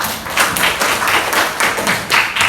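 Classroom applause from a group of students during a micro-teaching lesson, a burst of steady hand clapping lasting a couple of seconds with rhythmic pulses, fairly close and loud.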